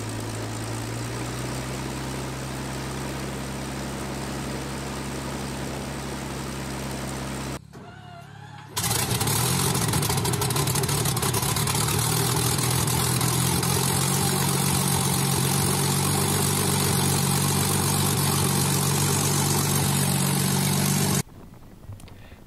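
A Hawker Hurricane warplane's piston engine runs steadily with a loud, dense roar, cuts briefly, then resumes even louder with a heavy low drone before dropping off near the end.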